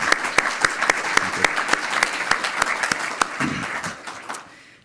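An audience at a university building dedication event applauds warmly, with dense clapping that holds steady for several seconds and then fades out.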